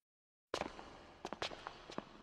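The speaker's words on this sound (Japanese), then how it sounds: "誰かが階段を降りてくる足音が聞こえた。" Footsteps descending stairs in the video game Kamaitachi no Yoru, a series of soft, irregular steps following a short silence, moderately close and heard alone without talk.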